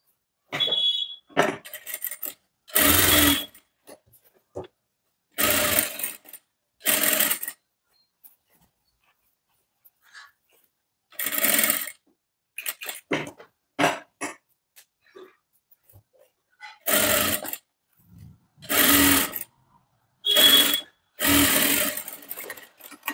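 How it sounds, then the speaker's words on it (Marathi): A sewing machine stitching a fold on a V-neck sleeveless blouse, running in loud close bursts of a few seconds each, separated by silent pauses as the fabric is repositioned. "फोल्ड केल्यानंतर इकडच्या साईडने व्यवस्थित आपल्याला दाब शिलाई द्यायची आहे।"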